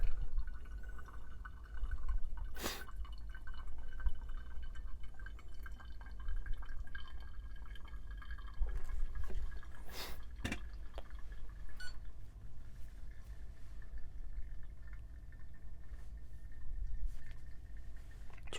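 Water poured over coffee grounds in a V60 dripper drains and drips steadily through the filter, a quiet trickle with a couple of sharp taps against the brewer along the way.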